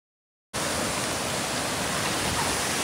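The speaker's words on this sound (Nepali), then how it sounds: "फाइनली म चाहिँ झरना आइपुगिसके अब ठुलो झरना हो यो चाहिँ हैन शक्तिशाली पनि छ" A large, powerful waterfall in Nepal roars in a dense, unbroken rush of water that starts abruptly after a brief silence and stays loud and steady throughout.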